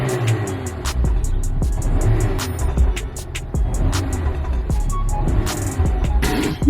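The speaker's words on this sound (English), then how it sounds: "Just a little pop. Is that normal for a Peugeot?" A Peugeot car engine revs once under a steady low idle rumble, with a few small sharp exhaust pops and crackles scattered through, recorded close by.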